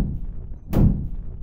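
Tank cannon reloading inside a German Bundeswehr tank in the ArmA 3 video game, a single heavy thunk that rises out of a low engine rumble and fades quickly.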